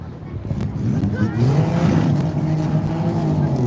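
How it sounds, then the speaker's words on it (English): An X3 Monte Carlo race car at a kids' racing event gives a throttle salute to the grandstands, its engine revving and rising in pitch, loud and sustained under an announcer's voice. "Make some noise for Chase Fawcett coming over with a salute of the throttle to the grandstands"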